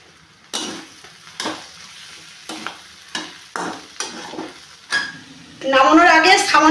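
Fish kochuri filling of fish, asafoetida and sattu flour is stirred and fried in a pan with repeated scraping strokes, ending in a louder, busier burst of clatter and sizzle.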